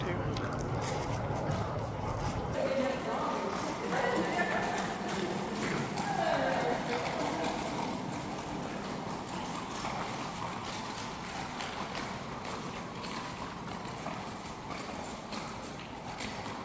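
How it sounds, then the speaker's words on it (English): Horses pass by on a dark outdoor trail near Bryson City, North Carolina, their hoof clip-clop steady and moderately close under a constant murmur of people talking throughout. "And there's horses coming."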